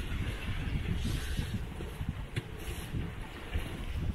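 A sailboat under sail on the open sea between Monaco and Corsica, with steady wind rush and water wash against the hull running continuously, close and fairly loud, without talk.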